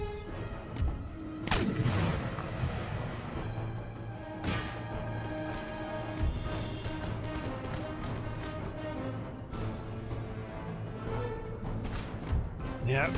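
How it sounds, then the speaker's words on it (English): Cannon fire loading canister shot in the Empire Total War video game, repeated booming blasts over a constant battle din, spaced irregularly across the clip. "I might just huck canister shot at them."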